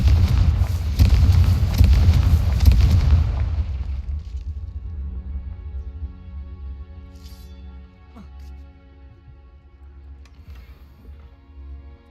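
A Confringo blasting curse from the Hogwarts Legacy video game detonates with a loud, rumbling boom that crackles for a few seconds before fading into a quieter tonal game ambience.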